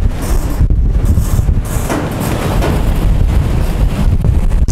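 Strong hurricane wind at an outdoor car market, a loud continuous roar buffeting the microphone with gusts rising and falling and no voices.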